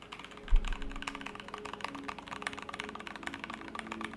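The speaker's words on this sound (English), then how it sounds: "Like my keyboard, I don't think sounds bad, right?" A mechanical keyboard with linear Cherry switches fitted with O-rings is typed on steadily, giving a dense run of soft, muted, close clicks after one heavier thump near the start.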